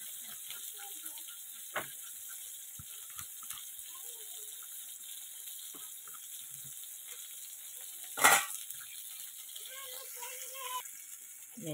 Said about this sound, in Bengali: এই যে আমার বেগুনটা পুরো ভাজা হয়ে গেছে, এবার এটাকে আমি তুলে নিচ্ছি।